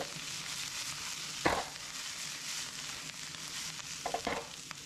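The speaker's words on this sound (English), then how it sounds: "We're turning it into a stir fry" Leftovers with cabbage and onion stir-fry in a pan, a continuous soft sizzle with a few sharper scrapes and clacks of a utensil, no talking heard.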